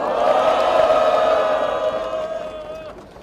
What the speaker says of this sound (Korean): 김성환 정책위원장께 큰 박수 보내주시기 바랍니다.